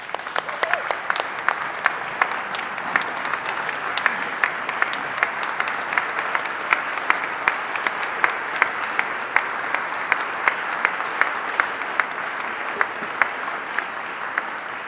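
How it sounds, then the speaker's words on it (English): Sustained applause and a standing ovation for a president at a high school band concert, a broad steady roar of many hands clapping with crisp individual claps poking through, continuing evenly throughout. "giving a huge round of applause and even a standing ovation to our President"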